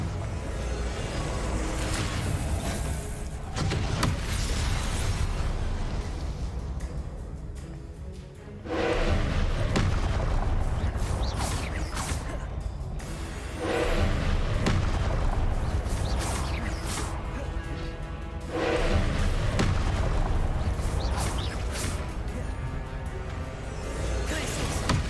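Blasting Confringo spell explosions in a wizard video game roar out as long, loud, broadband bursts, several sustained blasts separated by brief quieter gaps, with a voice faintly underneath.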